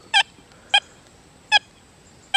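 Four short, bright beeping tones from a Deus 2 metal detector with an 11-inch coil sound at irregular intervals against quiet background hiss, each a crisp electronic chirp signaling a target.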